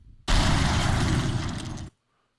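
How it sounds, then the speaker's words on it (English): A video game missile explosion effect: one loud, dense, distorted blast that starts abruptly, holds roughly one and a half seconds, then cuts off sharply into silence. "Missile explosion."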